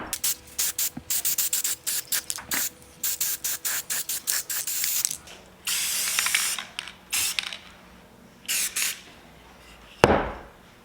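Rust-Oleum matte clear coat sprayed from an aerosol can onto a DIY hexagon desk planter, heard as a rapid series of short hissing bursts followed by several longer sustained sprays, close and alone.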